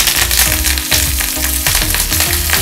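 Mustard seeds, cumin, dried red chillies and curry leaves fry loudly in hot oil, a dense crackling sizzle with rhythmic spluttering bursts that runs close and constant throughout.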